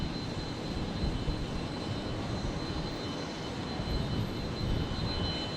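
Omni Air jet airliner operating for Air Niugini at Brisbane International Airport, giving a steady broadband engine roar with a faint high whine throughout, moderately distant and unbroken, with no voices.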